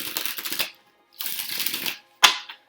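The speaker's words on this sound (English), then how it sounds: "So I'm going to shuffle." Tarot cards riffle-shuffled in two sustained bursts, close and crisp, followed by a sharp single snap as the deck is squared; no talking.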